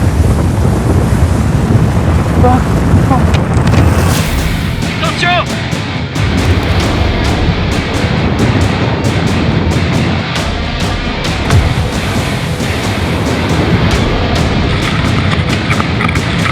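An avalanche rumbles down a snowy mountain as a loud, sustained roar mixed with buffeting wind, while someone shouts in alarm.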